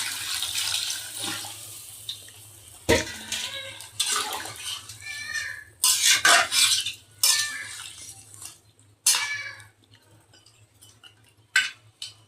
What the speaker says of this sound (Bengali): আমি এবার পানি দিয়ে দেব।